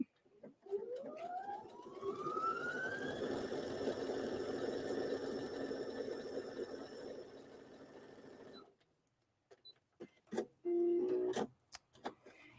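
A sewing machine runs a continuous stitching pass on fabric with a 1/4 inch seam, its motor ramping up then holding a steady whirring hum for about eight seconds before stopping, followed by a few short clicks and handling noises.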